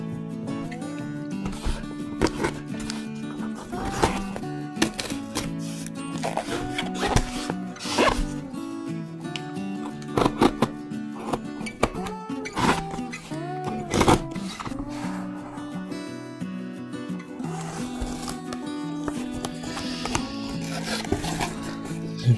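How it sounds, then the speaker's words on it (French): A parcel from a German supplier is unboxed to reveal a broken Jeff Gordon NASCAR model car. Close tearing, ripping and rustling bursts repeat throughout, over steady background music. "Je procède tout de suite maintenant au déballage."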